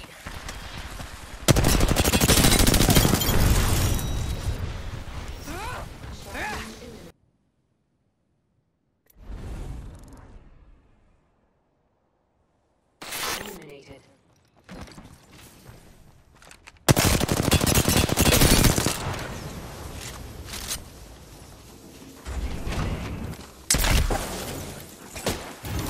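Automatic rifle fire from an R-301 in the shooter game Apex Legends, loud sustained bursts with a few brief pauses and quieter gaps between volleys.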